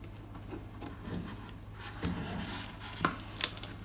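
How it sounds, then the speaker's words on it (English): A plastic card pries at the glue adhesive holding a Samsung A6 Plus phone screen, giving faint, close scraping and rubbing with a few sharp clicks over a steady low hum, no voices. "Use the plastic card to loosen the glue adhesive."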